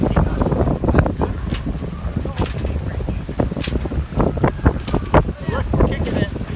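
A sailboat heels along under a partially reefed mainsail in about 17 knots of wind, with steady wind buffeting the microphone and water rushing against the hull, while people talk over the noise.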